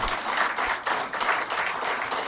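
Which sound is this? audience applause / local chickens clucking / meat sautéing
audience applause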